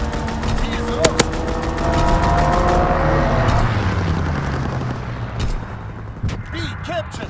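A fighter plane's strafing run in Call of Duty WWII: a burst of rapid gunfire, then a roaring engine sweeping past and fading, with radio-style voices talking over the battle noise.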